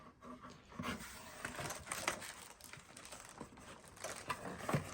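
Typing on a brand-new computer keyboard, a run of quick clicky keystrokes at close range with a steady, slightly uneven rhythm and no voices.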